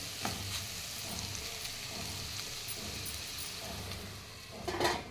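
Meal maker curry gets stirred in a pan over a soft, steady sizzle, with light scraping through the middle and a brief louder clatter of the utensil near the end.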